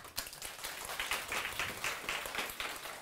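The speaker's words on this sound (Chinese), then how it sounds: "全部人给自己鼓掌" An audience at a talk applauds together, a continuous patter of many hands clapping at moderate distance for a few seconds without speech.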